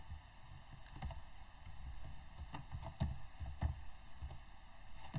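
Computer keyboard typing in a classroom setting, irregular clusters of quiet clicks and key taps with short pauses, heard alone at low level.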